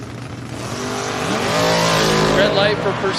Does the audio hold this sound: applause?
no